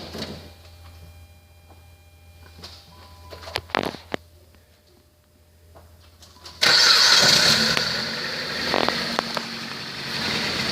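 A 2007 Dodge Caliber with 217,411 miles cranks and starts, then settles into a steady idle with a whine as it is shifted into reverse and drive; clunks and clicks come early on, and no one speaks.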